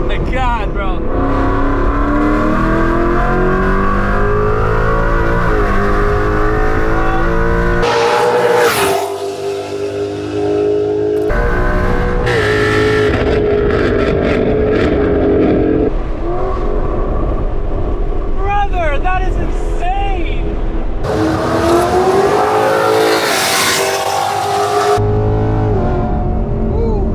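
Ford Mustang GT V8 with Corsa X-Pipe exhaust revving hard in track mode, a loud, sustained engine roar that rises and falls in pitch throughout, with people talking over it.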